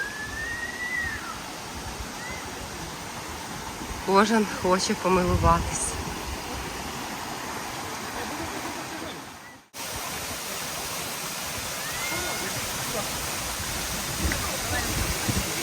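A Carpathian waterfall keeps up a steady rushing roar throughout, with people talking close by over it and a short break midway before the roar resumes.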